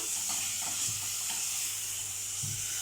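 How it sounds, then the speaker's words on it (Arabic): Garlic sautés with onion and meat in a pan, a steady bright sizzle with occasional soft stirring scrapes and knocks, close and continuous without talk. "هجيب كده حته من الثوم واشوحها برده مع البصله ومع اللحمه"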